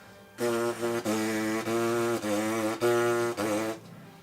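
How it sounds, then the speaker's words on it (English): Six short buzzing notes from lips on a brass mouthpiece, each a steady reedy tone separated by brief breaks, close and clear. "When you're buzzing it, it will sound something like this."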